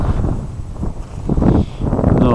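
Strong wind blowing outdoors, a steady loud buffeting rush across the microphone with gusts swelling and easing, alone without talk.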